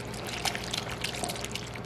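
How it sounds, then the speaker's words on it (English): Water is poured slowly into an egg mixture in a kitchen, a soft trickling splash with small bubbly ticks over a couple of seconds, close and fairly quiet with no voices. "Now I'm gonna slowly add in some water."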